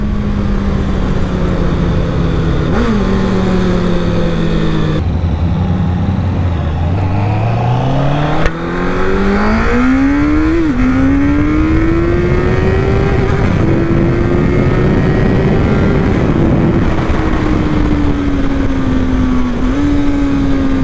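A QJMotor SRK 800RR 2024 sport-touring motorcycle engine on a test ride, loud and close, rising and falling in pitch through gear changes and throttle swells, a steady drone with wind noise and no talk.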